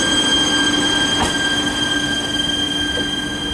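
A passenger train pulls out of a station in Bulgaria with a steady close rumble and sustained tonal whine from the motors, plus a brief wheel squeal, and no voices.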